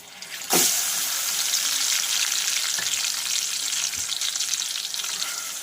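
Finely chopped onion drops into hot oil with fried cumin seeds for rajma masala, bursting into a loud sudden sizzle that holds steady and dense, with a few faint stirring knocks, close up.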